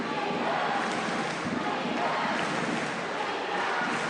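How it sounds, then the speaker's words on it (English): Crowd cheering and applause at a Billie Jean King Cup tennis match, Swiatek versus Paolini, a steady dense roar of many voices filling the whole stretch without pause. "cheering of the crowd behind both players"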